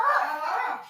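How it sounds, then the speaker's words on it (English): A pet dog gives a short, high whining bark or yelp indoors, brief and fairly close, heard alone for about a second. "Okay, excuse my dog."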